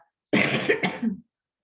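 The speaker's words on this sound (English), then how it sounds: "Oh, the coughing." A woman coughs in a harsh, close burst of two or three hacks lasting about a second, linked to post-nasal drip, with silence before and after.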